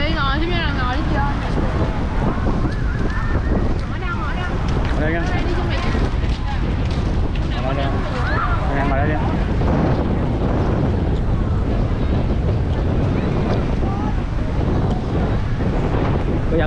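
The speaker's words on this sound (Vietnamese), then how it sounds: "Buổi chiều sóng lớn quá" Big afternoon waves crash continuously at Doi Duong beach in Phan Thiet, a loud, dense roar of surf mixed with strong wind buffeting the microphone, with voices faintly underneath.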